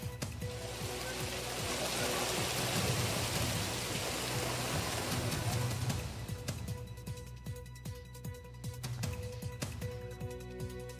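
Steady rain falling in rural Kota, Rajasthan, a moderate continuous hiss with scattered drops and some low rumbles, fading a little partway through, with no talk.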